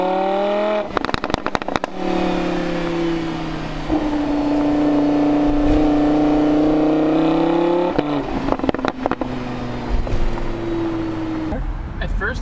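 Lamborghini Huracan Spyder convertible V10 revving loudly, a steady high engine drone rising and falling, with sharp crackling pops from the exhaust around the throttle lifts.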